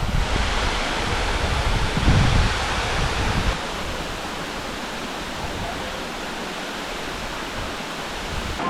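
Steady, broadband rush of falling water from a waterfall in Thanchi, Bandarban, Bangladesh, continuous and fairly loud, with a brief louder surge early on.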